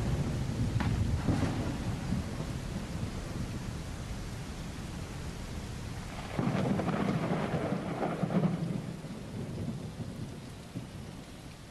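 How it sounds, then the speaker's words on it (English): Heavy steady rain hisses over a simulated outdoor scene with broadleaf trees, and rolling thunder swells twice, the second rumble loud and close. "the rain also becomes weaker"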